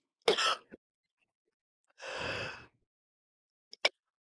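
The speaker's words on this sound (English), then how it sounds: "I think I coughed and sneezed." A person coughs in a short sharp burst, then gives a longer breathy rasping cough or sneeze, followed by two tiny clicks, all close and alone in a quiet room.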